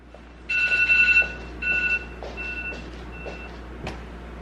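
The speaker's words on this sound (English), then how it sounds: "The alarm is chirping." An alarm clock chirps in a series of bright, repeating electronic beeps, loud at first and then fading to fainter chirps, with a sharp click near the end.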